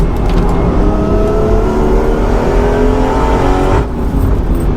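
A turbocharged BMW M240i engine, tuned to about 510 bhp, pulls hard on a race track with a loud, close, rising drone that holds steady before a brief dip, all with no talking.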